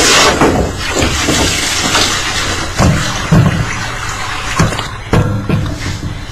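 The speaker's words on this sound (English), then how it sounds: "So I've just got my garden hose and I'm filling it up right now." A garden hose runs water into a spray booth's water tank, a steady broadband rush of splashing and pouring with irregular gurgles and thumps, close and fairly loud throughout with no talk.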